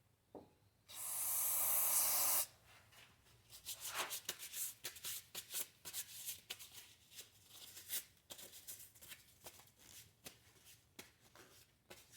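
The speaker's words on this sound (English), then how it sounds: "spray your toweling with the cleaner" A short, loud hiss of cleaner sprayed onto paper towel during crank bearing work, followed by crinkling and rustling of the towel being handled nearby.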